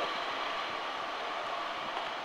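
Class 153 railcar 153310 from Doncaster arrives at Lincoln Central station with a steady, even rumble that holds fairly close for the whole short stretch, with no voices.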